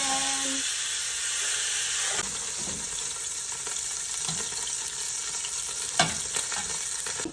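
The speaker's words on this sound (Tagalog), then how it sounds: "Iprito muna natin itong mga chicken." Chicken pieces frying in a pan for Filipino chicken mechado, a steady close sizzle and hiss with occasional stirring clatter and scrapes.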